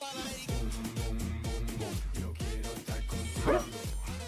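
A dog in the animated film Ugly Dolls barks in quick, rhythmic succession, about two loud barks per second, close and clear, with a higher yelp near the end.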